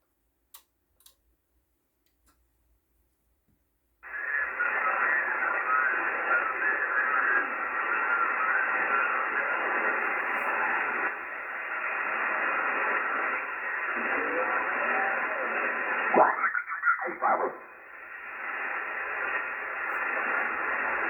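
A Yaesu FTDX-1200 ham radio transceiver, just repaired with a new regulator, is switched back on: a couple of faint clicks, then a steady wash of receiver static hiss that holds for many seconds, briefly dipping as the tuning shifts.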